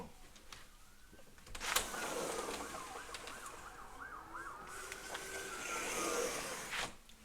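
A police siren from a car chase in Milwaukee, right outside, its wailing up-and-down tone rising out of traffic noise and holding steady at moderate distance for several seconds before fading.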